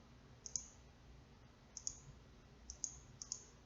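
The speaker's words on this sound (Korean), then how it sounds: "그러니까 마우스 버튼을 2번 클릭하면 됩니다." Quiet computer mouse clicks, single and double presses spaced apart over a faint background hiss.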